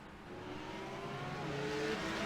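A pack of GT3 race cars rolling onto the track at the start of a race at Circuit Gilles Villeneuve, a faint, steady engine drone with rising tones as the cars pull away.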